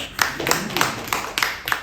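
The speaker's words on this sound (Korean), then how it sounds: "박수 부탁드립니다" Scattered audience clapping at a union officers' training session, with about half a dozen distinct claps at an uneven pace, fairly faint and close.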